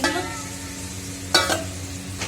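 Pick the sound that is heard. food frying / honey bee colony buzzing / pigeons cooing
food frying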